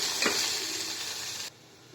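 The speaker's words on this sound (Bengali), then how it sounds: "পেঁয়াজটা একটু ভাজা হোক।" Onions and green chillies frying in oil sizzle loudly and close, with a short scrape of stirring early on, before the hiss cuts off abruptly at about halfway.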